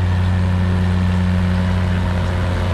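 An Oliver 880 tractor engine runs with a steady, loud low drone and constant rumble during a tractor pull in Clermont County, without pause or speech.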